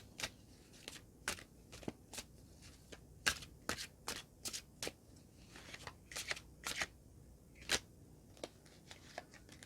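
Tarot cards are shuffled close up in crisp, irregular bursts of snapping and riffling over a quiet background, with no one talking.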